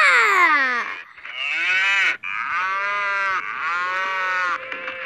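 A dying cow in Survivalcraft lets out a series of loud, drawn-out moos, three or four long bellows with brief gaps, close and clear, with no talking over them.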